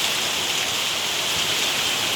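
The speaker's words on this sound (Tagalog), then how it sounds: "Malakas na ulan." Steady, dense downpour of heavy rain, a continuous loud hiss of drops pounding a surface with no pauses.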